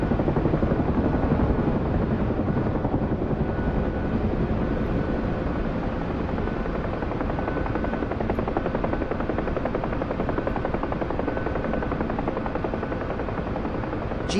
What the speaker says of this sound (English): Got a Chinook taking off.